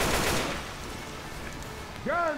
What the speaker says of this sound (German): Ach, wieso schießen wir eigentlich?